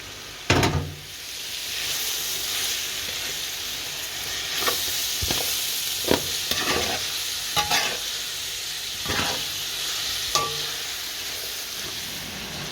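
Peppers fry in oil in a pan, giving a constant close sizzle with repeated sharp knocks and scrapes of stirring, starting with a loud clatter as they hit the pan; no one speaks.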